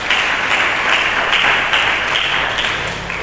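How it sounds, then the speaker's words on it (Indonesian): A church congregation claps together during a worship service, a loud, continuous wash of applause with rhythmic surges throughout. "Berikan tepuk tangan bagi Yesus."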